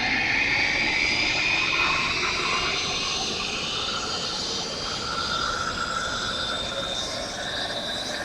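Hawk T1 jet's gas turbine starter spinning up during a cold start, a steady loud whine and roar with high tonal bands that hold nearly constant throughout, no voices.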